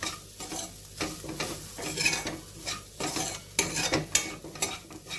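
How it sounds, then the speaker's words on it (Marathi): Grated coconut and barnyard millet stir-roasted in a pan, giving soft rhythmic scraping and stirring strokes with a light dry sizzle, fairly quiet and close. "आता हे खोबरं पण कोरडं होईपर्यंत आपल्याला परतून घ्यायचं आहे"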